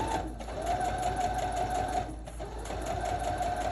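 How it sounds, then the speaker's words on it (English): Sewing machine fitted with an invisible zipper foot stitches close to a zipper's teeth, a steady, fast mechanical whir running continuously at close range without pause. "So right now I'm sewing super close to the teeth, and that little groove is opening up the teeth for me."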